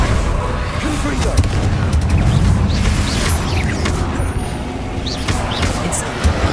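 Confringo blasting spells in Hogwarts Legacy go off as repeated booming impacts and crackling bursts over dense combat noise, with a voice mixed in.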